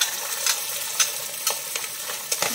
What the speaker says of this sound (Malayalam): ഇതുപോലെ നമുക്ക് ബാക്കി മീനും കൂടി ഒന്ന് വറുത്തെടുക്കാം